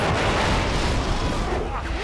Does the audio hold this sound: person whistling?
no